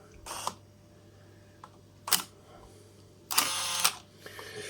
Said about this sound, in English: that's how quiet the focus motor is